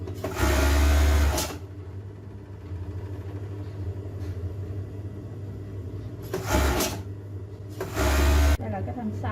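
An electric sewing machine runs in three loud, close bursts as it sews the front crotch seam of girls' elastic pants, with quieter handling sounds in between.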